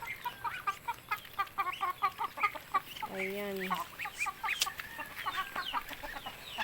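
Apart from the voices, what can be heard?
chickens clucking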